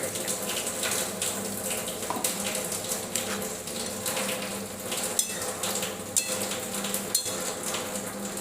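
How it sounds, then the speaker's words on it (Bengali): Water from a bowl used for washing spices pours into a cooking pan of okra and potatoes, a continuous close splashing trickle with small clinks, no voices. "এই মশলা ধোয়ার বাটির জলটাও এখানে অ্যাড করে দিলাম"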